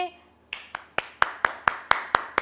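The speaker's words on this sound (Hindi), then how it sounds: "तो अब हमारे बीच में प्रॉफिट जी आ चुके हैं, तो जोरदार तालियों से उनका स्वागत करेंगे" Sharp, evenly spaced claps ring out one after another at a religious gathering welcoming a prophet, about nine crisp strikes building a steady rhythm after a fading tone.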